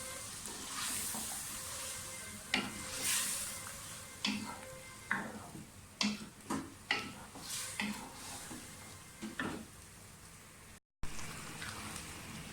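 Potatoes and fenugreek leaves fry in a pan, giving a soft sizzle under repeated close scraping and stirring clatters of a spoon against the pan at an uneven rhythm.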